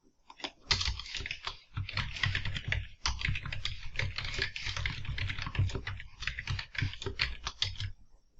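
Rapid, uneven clatter of a computer keyboard as code is typed, the keystrokes coming in quick runs with brief gaps, close and clear, with no voices.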